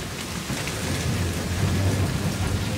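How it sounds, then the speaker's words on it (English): Heavy, constant rain pours down on an exposed island camp in stormy weather, a dense, steady hiss and patter close by that swells slightly louder over a few seconds, with no voices. "It's just constantly raining."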